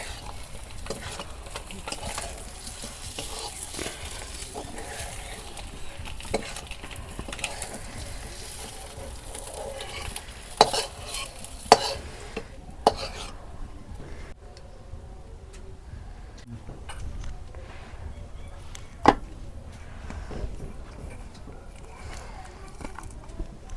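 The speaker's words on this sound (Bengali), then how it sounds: "পেঁয়াজ কুচি দিয়ে দিলাম" Chopped onions sizzling in a pan for a village-style egg bhuna while a utensil stirs and scrapes them, a steady frying hiss with frequent sharp clicks of the spoon against the pan, close and continuous.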